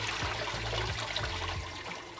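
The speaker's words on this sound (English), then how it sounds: "dump out that starchy water." Starchy rice-washing water pours steadily out of a pot, a soft continuous splash and trickle at close range with no voices.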